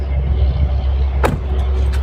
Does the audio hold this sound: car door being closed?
yes